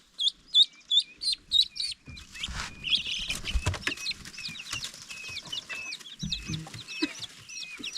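Bantam chicks in a brooder peep in quick, high rhythmic bursts, loud and close at first, then continue as softer scattered chirps over muffled handling and rustling noise.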